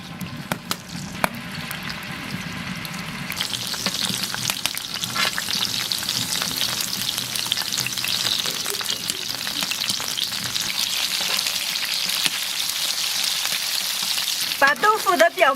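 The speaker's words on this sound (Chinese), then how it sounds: "平底锅里多倒一点油，" Large pieces of tofu fry in plenty of oil in a flat pan, a loud, steady close sizzle with dense crackling that keeps up the whole time, preceded by a brief quieter stretch of kitchen noise.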